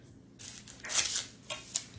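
Kitchen knife slicing the ends off onions in a few quick crisp cuts, close and fairly faint, with soft scraping between strokes.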